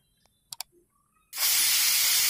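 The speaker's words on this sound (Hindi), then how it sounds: "और इसमें सीटी आने लगी है।" A pressure cooker with mutton inside gives a few faint clicks, then its whistle bursts into a loud, steady, close rush of venting steam that lasts to the end.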